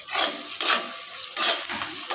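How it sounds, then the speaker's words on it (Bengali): Onions fry in a pan for a village-style spicy chicken curry, heard as several separate bursts of spatula stirring and scraping against the metal over a soft sizzle, with no talk. "পেঁয়াজগুলো ভাজা হোক।"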